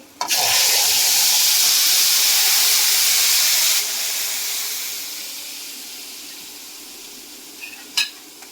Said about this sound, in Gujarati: અહીંયા ટમેટા ઉકળવા મીડા છે ટમેટાની ગ્રેવી ઉકળવા મીડી છે